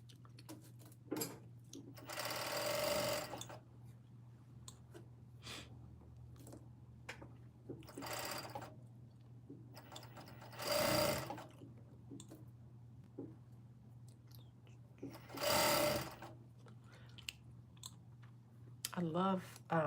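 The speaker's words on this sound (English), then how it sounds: "get ready to sew one sleeve on" A sewing machine runs in several separate bursts while a garment sleeve is stitched on, each run a few seconds of whirring with soft clicks and handling noise between them, quiet and close, over a faint steady hum.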